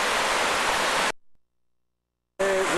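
A mountain tributary stream with a small cascade flows as a dense, steady rush of water up close, cut off by a stretch of near silence before the flow returns.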